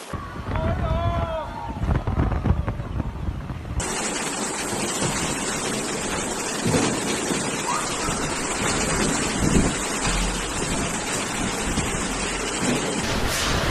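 A heavy storm of strong wind and rain floods an airport runway, roaring as a steady, loud rush with low gusty rumbles and no letup.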